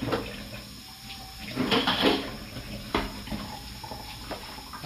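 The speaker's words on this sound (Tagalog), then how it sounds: "Banlawan lang natin may mga kanin." Tap water runs over rice as it is rinsed in a sink, a steady splashing flow with a few louder surges and bumps of grains and pot.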